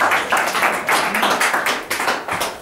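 A church congregation claps in a fast, steady rhythm, a close and lively burst of hands applauding in praise.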